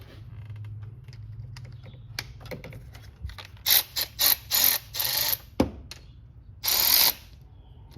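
Ratchet wrench loosening 10 mm bolts on the upper timing chain cover of a 2.0T TFSI engine, heard as a few short bursts of close, sharp clicking separated by pauses, with no talk.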